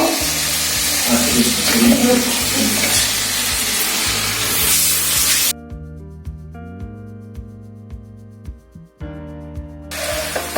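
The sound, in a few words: frying raw jackfruit in spice masala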